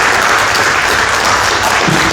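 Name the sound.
audience applause for candidates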